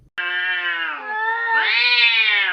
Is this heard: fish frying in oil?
no